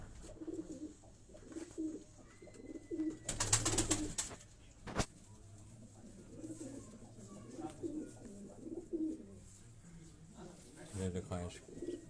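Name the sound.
high-flying pigeons cooing in loft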